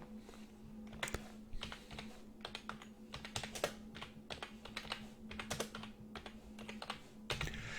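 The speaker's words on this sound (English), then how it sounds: "we can type it in properly" Typing on a computer keyboard while entering a company name into a settings form, with irregular bursts of close key clicks and short pauses, no voices.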